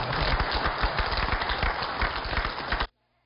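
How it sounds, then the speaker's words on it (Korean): Dense, loud clapping from an audience at a public event in South Jeolla Province, a busy patter of many hands that continues steadily for about three seconds and then stops abruptly. "박수 한번 칩시다"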